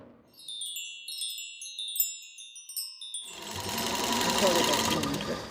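Sewing machines running at a monthly community sewing group gathering in northern Ontario: bright chiming tones come first, then a steady dense mechanical whirr fills the second half, close and fairly loud.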